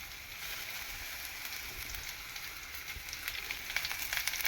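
Ingredients for kuzhi paniyaram sauté in a hot pan, a steady close sizzle and crackle that grows slightly busier toward the end, with no talking.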